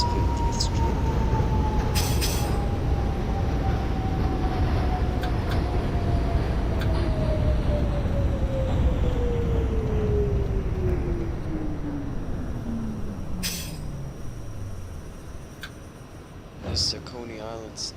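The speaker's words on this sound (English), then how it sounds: "This is a Coney Island Stillwell Avenue bound D train." R68 subway train on a D train run to Coney Island in the OpenBVE simulator, a steady loud rumble with a long descending motor whine as it slows, under a recorded announcement voice.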